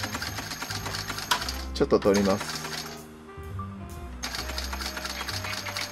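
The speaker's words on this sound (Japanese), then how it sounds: "何かいらない布か革かをこうミシンで縫って" A sewing machine runs close up as it stitches scrap fabric or leather, giving a steady mechanical chatter that stops briefly midway and then resumes, with a person talking over it.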